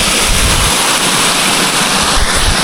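River water rushing through a mountain forest in Quezon, a steady, loud broadband roar of flowing water close to the microphone with no speech.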